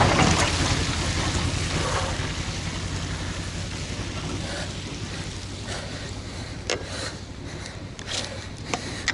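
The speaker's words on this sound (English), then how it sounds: "And luckily the rain has slowed down quite a bit." Steady rain falling outdoors near Sangapur, Hampi, a broad continuous hiss with a few sharper drips or gusts, easing slightly over the span, no talking.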